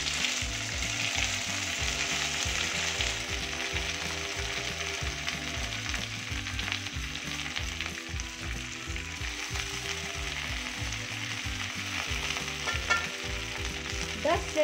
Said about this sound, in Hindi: दस से 15 मिनट तक मीडियम फ्लेम पे इसको फ्राई करेंगे।